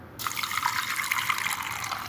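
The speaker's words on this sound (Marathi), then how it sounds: "त्याच वाटीने आपण त्यामध्ये पाणी ॲड करूया" Water is poured from a bowl into a pan of sugar to make syrup for gulab jamun, a close, bubbling splash that begins abruptly and continues steadily for about two seconds, alone.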